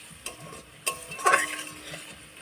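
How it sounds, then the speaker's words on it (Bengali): Spice masala with turmeric fries in a pan while being stirred, giving a few scraping knocks of a spoon over a soft, low sizzle in a short burst. "মশলাটাকে ভালোভাবে কষে নেব।"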